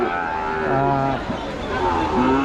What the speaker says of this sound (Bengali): গরুগুলো ভিজছে গরুগুলোর অনেক কষ্ট হচ্ছে